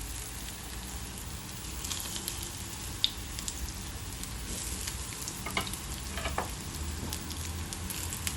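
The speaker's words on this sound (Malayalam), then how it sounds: "ഞാൻ ഇവിടെ അത്ര എണ്ണ യൂസ് ചെയ്യുന്നില്ല. ഷാലോ ഫ്രൈ ആണ് ചെയ്യുന്നത്." Beetroot vegetable cutlets shallow frying in a little oil, a soft continuous sizzle with scattered faint pops and crackles, fairly quiet and with no talking.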